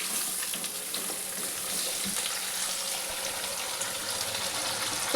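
Rice with spices frying in a pot for pulao, giving a faint, even sizzle and light stirring scrapes throughout, with a small knock near the end and no voices.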